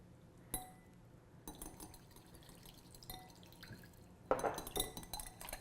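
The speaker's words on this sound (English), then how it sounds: "You just whisk these together until it's well mixed." A whisk mixes salad dressing in a bowl, giving faint, quiet clinks and light liquid sloshing that grow busier toward the end.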